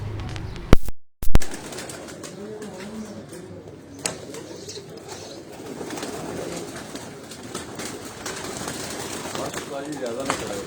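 Breeder pigeons coo from a rooftop loft in Rawalpindi, a low continuous burbling from several birds close by, with a few sharp knocks near the start and people talking in the background.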